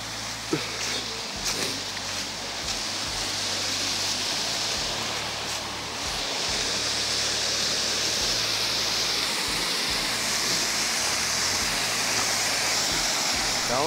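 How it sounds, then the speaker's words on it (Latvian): Daudze waterfall near Sigulda, Latvia, pours in a steady, dense rush of falling water, broadband and continuous from start to finish, close and loud with no voices over it. "mēs esam atnākuši Daudzes ūdenskritumi"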